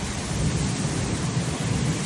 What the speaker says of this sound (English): winds and torrential rain slamming the Texas A&M University campus on Tuesday